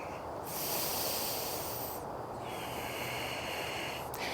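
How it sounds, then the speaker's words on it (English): Slow, deep breaths during a yoga flow, close and audible, with long hissing inhales and exhales in a calm rhythm, two or three full cycles and no talking. "One more deep breath."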